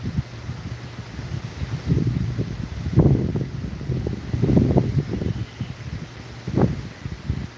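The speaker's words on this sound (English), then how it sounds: "It's getting windy." Gusty wind blowing outdoors under trees as the sun goes down, a close rumbling buffet against the microphone that swells and fades in irregular gusts over a faint steady background.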